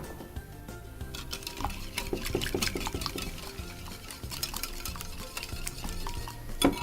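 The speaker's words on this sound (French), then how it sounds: "On mélange à peu près 5 minutes jusqu'à ce que le sucre disparaisse" A sugar mixture for semolina and coconut ghriba is stirred in a bowl, with a continuous scraping and a busy patter of utensil taps and clinks throughout.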